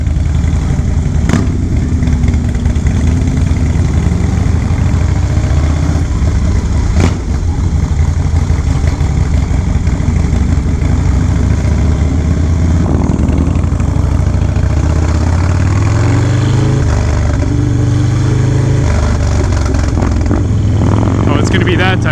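A Harley-Davidson FXRT rolls along a town street strip, its engine a loud, steady low rumble close to the rider with wind buffeting, a few shifts in pitch as it eases and pulls, and brief sharp knocks along the way.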